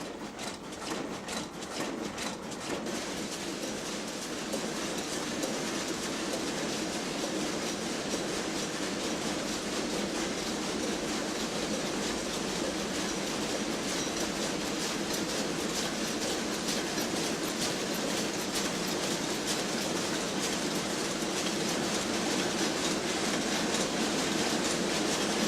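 A Leavers lace machine runs in a French lace factory, giving a dense, loud, unbroken mechanical clatter and whirr that stays steady throughout with no voices.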